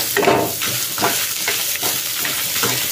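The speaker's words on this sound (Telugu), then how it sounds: "చక్కగా ఒక కరివేపాకు దూరగా వీటిని వేయించేసుకోవాలండి." Curry leaves and spices fry and sizzle in a hot pan for udipi sambar, a steady close crackle broken by a few rhythmic stirring scrapes.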